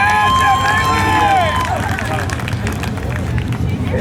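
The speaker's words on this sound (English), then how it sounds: "Nice round of applause for Jeff Haley." A crowd at a Corn Harvest pro stock race gives sustained applause and cheering for a driver introduction, with loud general hubbub filling the scene and a brief announcer-like tone fading early on.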